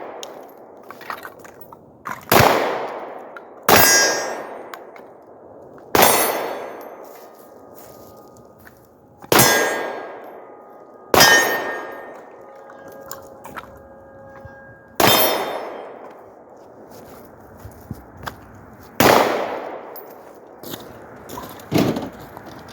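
Glock 17 pistol with a Holosun 507 ACSS red dot fired at steel targets while moving: about ten sharp, loud shots at irregular intervals, each followed by a ringing metallic clang that decays quickly.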